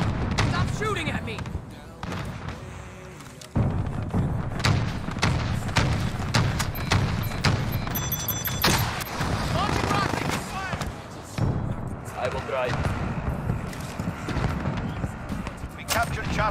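A multiplayer shooter match rumbles with dense gunfire and booming explosions that run almost without a break, loud and close throughout, while a player talks over the noise.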